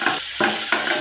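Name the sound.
chopped onions frying in a pan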